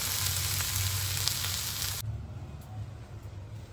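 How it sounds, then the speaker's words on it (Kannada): Onions fry in a pan with a dense, continuous close sizzle, loud at first and then dropping to a softer crackling hiss partway through. "ಈ ತರ ಸುಟ್ಕೊಬೇಕು ಈರುಳ್ಳಿ ಅವಾಗ ನೀಟಾಗಿ ಬೇಯೋದು"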